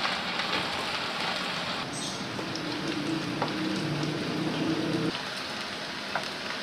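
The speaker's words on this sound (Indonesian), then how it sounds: "setelah ini kita goreng tempenya sampai nanti rada kecoklatan" Tempeh frying in hot oil for a home-cooked dish gives a steady, close, crackling sizzle that runs unbroken for the whole stretch, with no voices over it.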